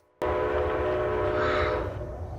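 A train in a 1985 TV drama episode rumbles past with a sustained horn blast sounding over the engine noise, starting abruptly and holding steady before easing slightly.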